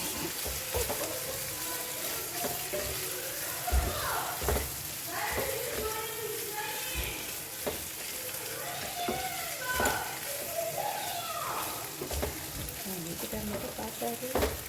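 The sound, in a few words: pasta toasting in pan with oregano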